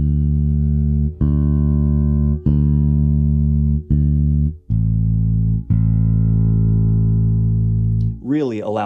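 A bass guitar plays through a Gallien-Krueger 2001 RB amplifier with its four-band active EQ being adjusted. Sustained low notes are plucked one after another, each ringing out in turn, ending with a brief sliding tone.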